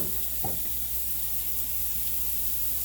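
Food sizzling in olive oil in a pan over medium-low heat, a steady, even hiss of frying with a brief clink early on.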